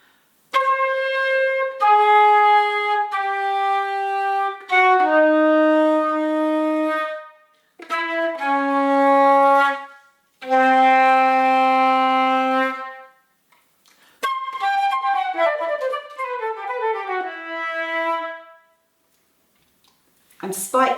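Solo flute plays a passage from Koechlin's Chants de Nectaire: sustained clear notes in several phrases separated by short rests, leaping down to low held tones, then a quicker run of descending notes, played close and alone.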